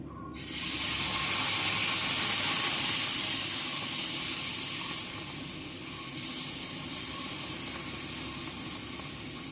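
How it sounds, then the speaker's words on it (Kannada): Dosa batter sizzles on a hot non-stick tawa, a loud, steady hiss that starts abruptly and fades slightly partway through, with no talk over it. "ಈಗ ದೋಸೆ ಹಾಕೊಳ್ಳೋನು"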